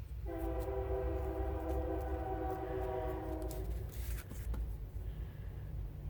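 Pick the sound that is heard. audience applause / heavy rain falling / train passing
train passing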